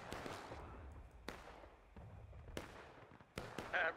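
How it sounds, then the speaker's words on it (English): Confederate cannon fire in a large multiplayer Civil War video game, sharp distant booms spaced about a second apart, several crackling blasts against a faint background. "Confederate guns overshooting."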